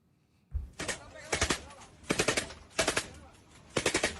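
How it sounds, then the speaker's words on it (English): Two belt-fed machine guns fire from inside an armored vehicle at a rival cartel, loud rapid bursts repeating in several clusters over a few seconds with no talk. "this is Los Chapos supposedly firing 2 belt feds at one of their rival cartels from inside of some armored vehicle"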